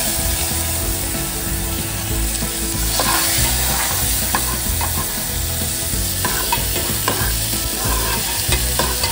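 Garlic cloves and curry leaves sizzle and fry steadily in hot oil, with chopped tomato added partway and stirred in, producing a continuous loud crackle with scraping stirs and bursts of hiss.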